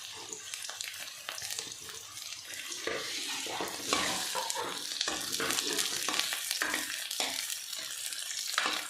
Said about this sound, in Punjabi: ਲਸਣ ਨੂੰ ਵੀ ਸ਼ੈਲੋ ਫਰਾਈ ਕਰਾਂਗੇ